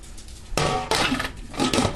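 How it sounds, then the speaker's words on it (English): A metal lid set down on a pot of meat and a little broth on a stovetop, giving several clanking, ringing contacts in quick succession at close range with no talk. "Let me get my lid."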